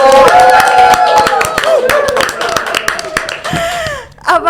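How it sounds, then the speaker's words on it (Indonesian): A podcast audience claps for two guests, a loud, dense patter of hands that runs steadily under a prominent voice. "Boleh beri tepuk tangan yang paling meriah untuk Pak Nurendra Prasetyo dan Master Hugo"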